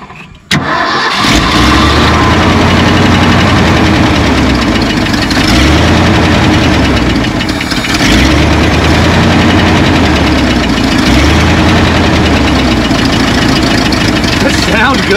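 The engine of an abandoned 53-year-old U-Haul truck cranks and catches, then runs loud and rough at close range with a rhythmic surging, lopey idle, voices faint beneath.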